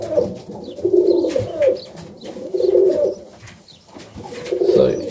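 Pigeons coo in a loft on a cold morning in Melbourne, Australia, with three rhythmic, close, throaty rolling coos and faint chirps in the background.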